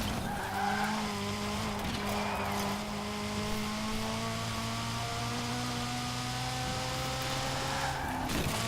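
Cars racing in Forza Horizon 4, including a Ferrari F40, with sustained engine drone and long tire squeals and skids from several cars, steady and moderately loud throughout.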